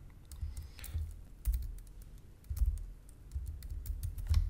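Someone types a test card number on a computer keyboard in short bursts of quick, close key clicks with brief pauses between them, and no talking.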